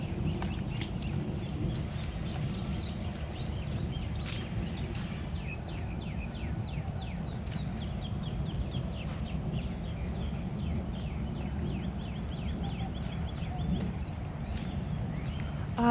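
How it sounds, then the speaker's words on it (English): Small birds chirp in quick, scattered bursts around a Walt Disney World resort, Disney's Saratoga Springs, heard faintly over a steady low outdoor rumble with no voices. "Oh, I love hearing the birds."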